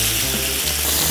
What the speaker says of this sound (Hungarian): Ezt körbe akarom pirítani.